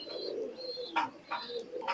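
Imported-bloodline high-flying pigeons coo in low, throaty rolls close by, with brief higher chirps breaking in now and then; no one speaks.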